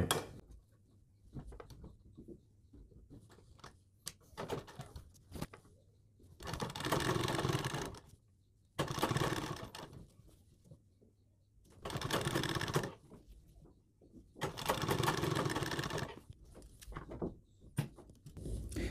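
A sewing machine stitches lace onto the boat neck of a blouse in four loud, steady bursts of rapid needle chatter. Quiet handling clicks and cloth rustling fill the pauses between runs.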